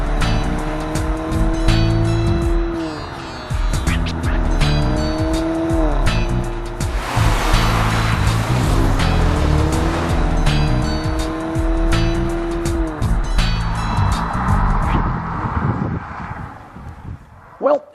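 A 2014 Mercedes-Benz CLA 250 is driven hard through corners, its engine rising and falling through gear changes while tires squeal and skid on the pavement.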